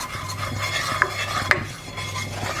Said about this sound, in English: I'm just going to cook that off a minute